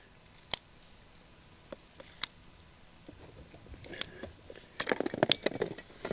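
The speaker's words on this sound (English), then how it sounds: "hopefully this piece of PVC will cut fine too" A handsaw or cutter working through a piece of PVC pipe for a garden drip-irrigation setup, heard as a few sharp isolated snaps early on, then a dense burst of scraping, crackling cuts near the end, close and fairly quiet.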